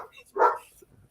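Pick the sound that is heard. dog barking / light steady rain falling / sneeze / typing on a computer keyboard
dog barking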